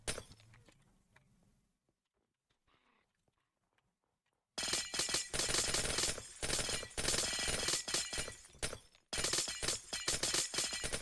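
Glass shatters repeatedly in Minecraft on a Pixelmon server: after a near-silent stretch, loud dense bursts of breaking and tinkling glass follow one another in quick succession, with a brief pause midway.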